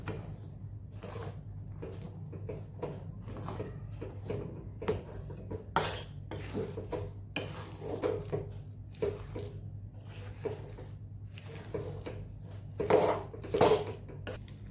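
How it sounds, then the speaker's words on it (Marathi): Sesame seed and crushed peanut mixture being stirred in a pan with the gas off, a series of soft scrapes and knocks of a spoon against the metal over a quiet low hum. "गॅस बंद करायचा आणि व्यवस्थित असं मिक्स करून घ्यायचं"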